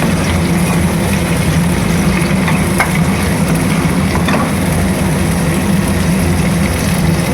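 Onions and ginger-garlic paste sautéing in a pan for a vegetable kurma, being stirred steadily; a continuous close sizzle and scraping hiss runs unbroken throughout.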